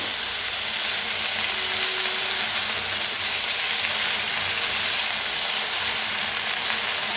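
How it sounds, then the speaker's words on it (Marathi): Fenugreek leaves fry in a pan with a steady, close sizzle and hiss, constant and fairly loud throughout with no voices. "आता मेथीला जरा मिक्स करूया।"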